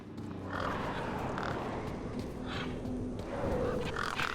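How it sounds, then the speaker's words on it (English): Crows cawing in the video game Beyond a Steel Sky, harsh repeated calls at intervals over a steady ambient game background, moderately loud and close. "Those birds weren't going to let me anywhere near the back of the truck."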